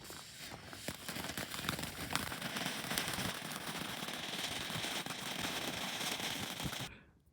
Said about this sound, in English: Firecracker fountain.